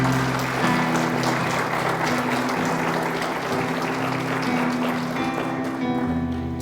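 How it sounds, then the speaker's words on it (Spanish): A church congregation claps together during a Spanish-language sermon, dense sustained applause lasting several seconds with steady held musical tones beneath it and no speech over the clapping. "¿Puede aplaudir al Señor?"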